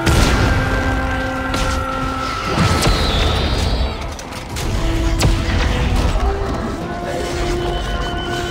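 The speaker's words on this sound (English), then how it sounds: "I'll just grenade launcher him." Repeated grenade launcher blasts in the video game Dead Space 3 during a boss fight, several booming explosions and sharp impacts over a busy, steady game soundscape, with someone talking over the action.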